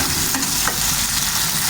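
Sambal chili paste stirred while it fries in a pan: a dense, steady sizzle and crackle with faint scraping strokes, close and continuous, no voices.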